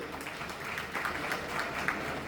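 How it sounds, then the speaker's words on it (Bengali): A moderately distant audience at a formal day event applauds in a steady, continuous wash of clapping, with no speech over it. "তার জন্য একটা করতালি হবে প্লিজ।"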